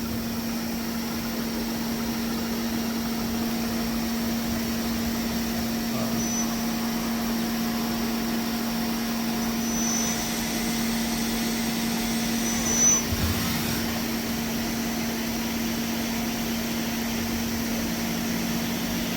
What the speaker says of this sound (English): we're going to do a quick demonstration of the machine's movements